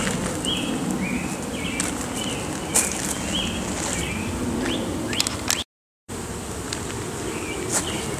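Honeybees buzz around close by at an open hive with a steady insect hum, while soft clicks and rustles occur and a bird chirps faintly in the background; brief dropout midway.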